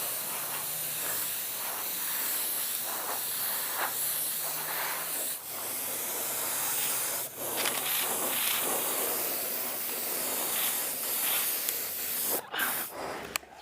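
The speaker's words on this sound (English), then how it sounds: "We're gonna spray it at about probably 15 PSI." A spray gun lays primer onto a car fender at about 15 PSI, a loud continuous airy hiss that pulses slightly as the trigger is feathered, with a short break and clicks near the end.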